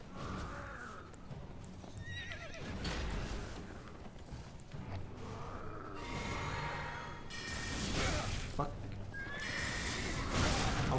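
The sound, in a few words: horse neighing in the video game Elden Ring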